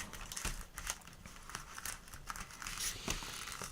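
Slow tearing and crinkling of paint peeling off a surface, a close, dry crackle with soft rips and small ticks, steady and fairly quiet throughout.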